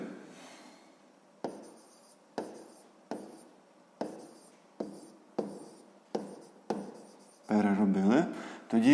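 A pen moves across paper during a sixth-grade math exercise, giving about nine evenly spaced scratchy strokes, close and distinct, before a voice begins speaking at the very end.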